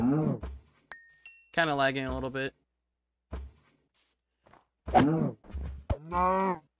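Cows in the video game Minecraft moo after being hit, several drawn-out lowing calls scattered between stretches of someone talking.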